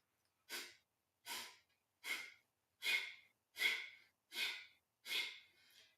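Seven forceful, evenly spaced exhales from a yoga breathing exercise in which the stomach snaps inward toward the spine, each a short sharp puff of air through the nose, close and clear against silence.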